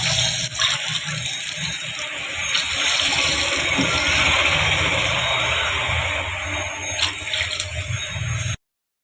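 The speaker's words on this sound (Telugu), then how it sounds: "ఆ క్వాంటిటీతోని అదే గ్లాస్తోని లేదనుకుంటే కప్తోని మనం 4 గ్లాసులు వాటర్ని వేసుకోవాలి" Water pours steadily into a pan for wheat rava upma, a continuous close splashing and filling rush lasting several seconds before cutting off abruptly.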